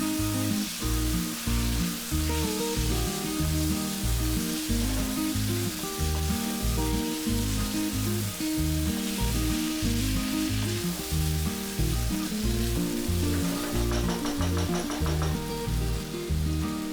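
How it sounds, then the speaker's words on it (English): Mangalorean chicken sukka sizzles and fries steadily in a pan with oil, a constant close crackle with a rhythmic scraping as the mixture is stirred throughout. "Then give it a nice mix."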